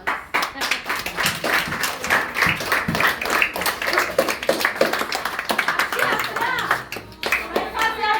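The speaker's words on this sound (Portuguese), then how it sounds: "Palmas." Children clapping their hands at a church gathering for juniors and kids, lively uneven claps from a group with voices mixed in, fairly close and loud.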